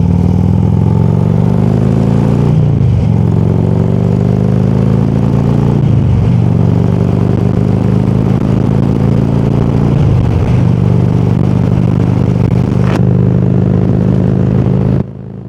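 A motorcycle with a 103 engine and 12,000 miles accelerates hard on the interstate, its loud, close engine note rising through several gears with brief dips at each shift, then settling to a steady drone.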